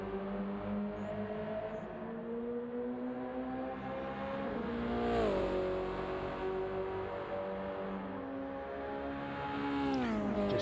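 A Subaru BRZ race car's engine roars loudly and steadily on track on an out lap heading toward the 130R corner, the pitch climbing and dipping as the driver works through the gears.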